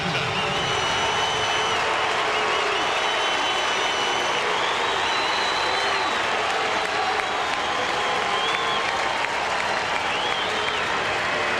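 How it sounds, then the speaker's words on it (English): Dense, steady crowd roar from a packed 1999 Mets at Dodgers baseball stadium as Mike Piazza comes to bat, mixed cheers and boos blending into a continuous wash of noise throughout. "Let's listen to the crowd."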